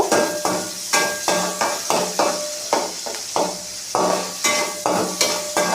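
Chopped onion frying in oil in a pan, a steady sizzle under repeated sharp scraping strokes of a spatula against metal, fairly loud and close, about two per second.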